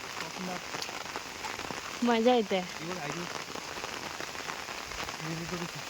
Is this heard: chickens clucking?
no